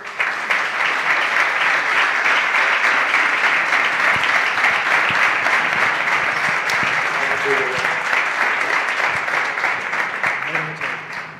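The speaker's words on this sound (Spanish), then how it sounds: "Un aplauso para Rafa Barber." An audience at a tribute event for a football legend gives Rafa Barber a sustained round of applause, dense and steady clapping filling the hall before slowly thinning out at the end.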